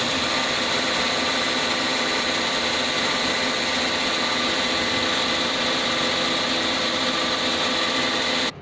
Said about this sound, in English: Dispense the fuel in the calibration bucket till you meet the calibration bucket capacity